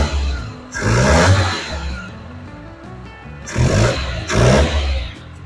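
A 1976 Toyota Celica RA24 engine with a sealed exhaust revs up twice, two broad swelling bursts of close, throaty engine noise over a low idle rumble.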